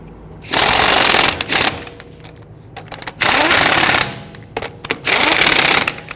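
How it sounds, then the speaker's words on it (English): Pneumatic impact tool snugging lug nuts onto wheel studs on a 2010-2019 Ford Taurus, three loud rattling bursts of about a second each, separated by short pauses, close up. "we're going to go ahead and install all of our lug nuts by hand, and once we get them started, we'll go ahead and snug them down"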